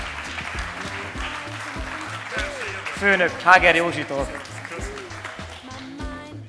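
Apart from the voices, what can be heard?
audience applause welcoming Ferenc Barna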